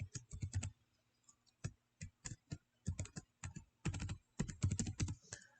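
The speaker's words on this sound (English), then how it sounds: "enter the username and enter your password" Someone types quickly on a computer keyboard, entering a username and password. Close, crisp clicks come in short bursts separated by brief pauses.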